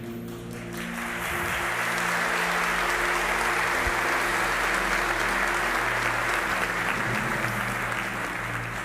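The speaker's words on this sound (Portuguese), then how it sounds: "recebe as palmas, os aplausos" A church congregation breaks into sustained applause that swells after the first second and holds steady and loud to the end, a dense wash of many hands clapping together.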